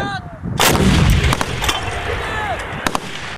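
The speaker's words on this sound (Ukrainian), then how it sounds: "на своїй позиції прибувають бойові розрахунки разом зі своєю зброєю 100-мм протитанковими гарматами рапіра" A 100-mm Rapira anti-tank gun fires a single loud, close blast during a live-fire training drill, followed by a long rolling echo and scattered cracking sounds.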